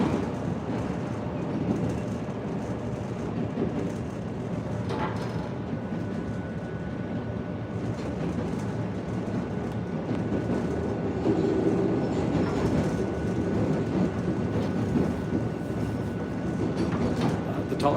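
Green Line light rail train rolling through a turn, a steady loud rumble of wheels and car body noise with faint rail clatter throughout, no talking.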